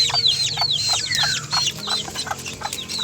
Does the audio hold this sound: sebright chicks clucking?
yes